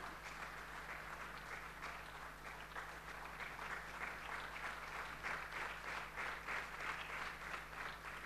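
A congregation at a Sunday church service in Pune claps together for a named member, a continuous, even wash of many hands that stays fairly quiet and distant, with a low steady hum running beneath.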